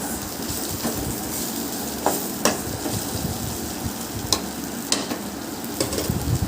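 Raw banana pieces fry in a pan, giving a steady close sizzle broken by several sharp scraping stirs, with no talking.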